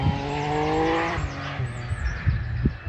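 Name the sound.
motorbike passing by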